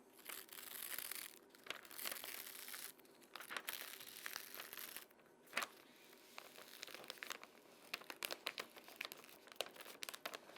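A transfer sheet is peeled slowly off a T-shirt printed with white toner, producing a faint, continuous crinkling and tearing rustle with a few sharper crackles along the way.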